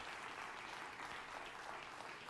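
A studio audience claps in an unbroken wash of applause, dense and level throughout the short stretch, with no talking over it.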